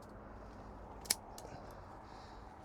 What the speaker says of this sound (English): So we'll cut it right here